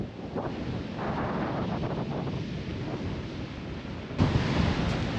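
Rough surf breaking on a beach in stormy weather, a constant loud roaring wash of waves mixed with heavy wind buffeting the microphone, with a sharper gust-like swell near the end.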